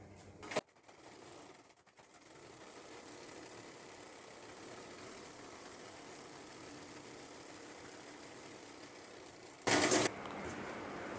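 A sewing machine stitches a joint in umbrella-fabric palazzo pants, giving a steady, quiet mechanical whir that runs continuously for several seconds, with a few brief handling knocks and a sharp hissy burst near the end.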